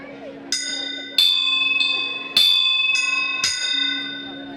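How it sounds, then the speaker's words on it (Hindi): A small handheld bell rings five times in clear, evenly spaced strikes, each bright tone lingering over a steady low drone during a Hindu Bhagwat katha recital. "अब ज्यों ही घंटी बजी"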